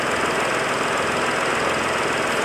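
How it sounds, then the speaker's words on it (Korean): A Mini Cooper convertible's engine idles steadily up close, a constant even hum with no voices over it. "네, 엔진 소리 아주 일정하고 조용한 차량입니다."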